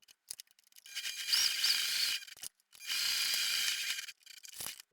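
A sewing machine top stitches a clip-on fabric card purse in two sustained mechanical whirring runs, close and steady, separated by a brief pause and framed by small clicks.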